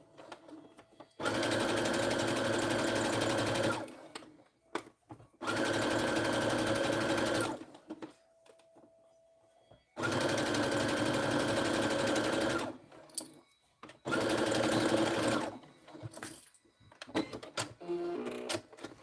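A sewing machine running in long bursts under foot-pedal control while stitching a zippered popcorn pouch, loud and close, separated by short pauses with faint handling noises.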